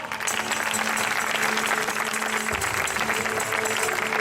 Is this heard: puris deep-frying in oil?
no